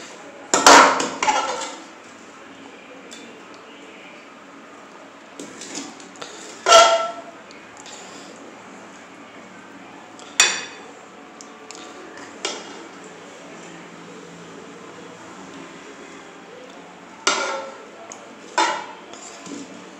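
Chicken charsi karahi being dished out, with sparse metallic clinks and knocks of pots and utensils scattered over a quiet background, a few sharper clanks standing out near and clear.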